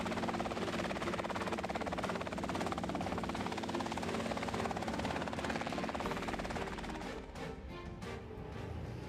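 A Robinson R22 helicopter drones loudly and continuously, its 180-horsepower four-cylinder boxer piston engine buzzing with a steady rotor chop that dips slightly near the end.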